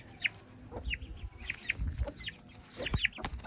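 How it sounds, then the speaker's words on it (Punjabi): A hen clucks in a series of short, sharp calls at a loose, irregular rhythm, fairly close. "ਮੁਰਗੀ ਹੈ ਮੁਰਗੀ ਹੈ ਲੱਗਦਾ"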